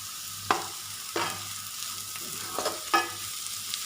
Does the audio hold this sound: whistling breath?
no